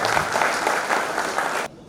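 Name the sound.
loud applause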